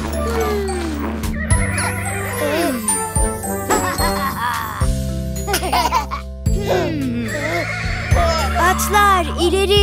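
A horse neighs amid a lively Turkish children's Halloween song, the whinny mixed in with bright jingling, singing and playful music throughout.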